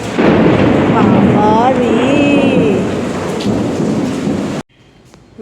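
Heavy thunder rolls loud and close during a daylong rainstorm over a steady roar of pouring rain, with a voice exclaiming briefly before the sound cuts off abruptly near the end.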